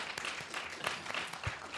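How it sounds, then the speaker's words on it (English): An audience at a live retro gaming convention panel claps and applauds in a short, dense burst, moderately loud with no voices over it. "yes, yeah, you can applaud for that."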